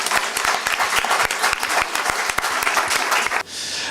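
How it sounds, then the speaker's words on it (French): An audience applauds the speakers at a panel discussion, with sharp, close individual claps forming a brisk, dense round that cuts off abruptly near the end. "je crois qu'on peut les applaudir."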